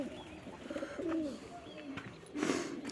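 Pigeons coo softly in a few low, rolling phrases, close by, with faint chirps and rustling inside a pigeon loft.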